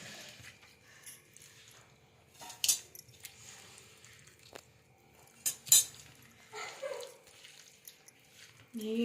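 Chicken pieces are mixed with chopped mint and coriander in a dish for grilled chicken fry, giving quiet, intermittent clinks and taps of a utensil against the bowl amid soft rustling.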